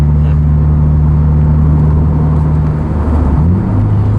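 Subaru Impreza with an EJ25 engine and Magnaflow exhaust, holding a loud, steady low droning note close up, then the pitch sweeps upward near the end as the engine revs.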